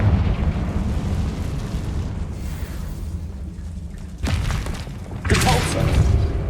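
Confringo blasting spell explosions in the video game Hogwarts Legacy, booming bursts over a steady low rumble, with two sharper blasts near the end.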